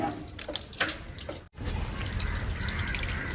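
Water poured out of a bucket outdoors at a village cooking spot, splashing onto the ground in a steady close rush with no voices.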